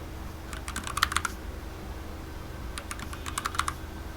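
Two short bursts of rapid clicking as a password is typed on a computer keyboard, each lasting under a second and separated by a pause, close and moderately quiet over faint room hum.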